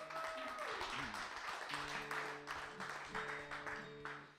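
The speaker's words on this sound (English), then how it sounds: "Round of applause for Gloria." Audience applause at an open mic night at Chapel FM in February 2022, a steady patter of clapping hands under sustained tones from a keyboard or music bed, moderately distant.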